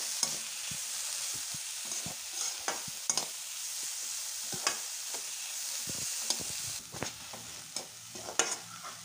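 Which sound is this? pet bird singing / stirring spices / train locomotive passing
stirring spices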